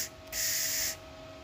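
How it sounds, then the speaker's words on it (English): Shielding gas pre-flow hissing from a Harbor Freight Titanium MIG 170 welder, a steady close airy hiss lasting about half a second before cutting off, with a quieter hiss continuing afterward. "So I don't know if you guys can hear that, but it actually has, I think it has pre and post flow"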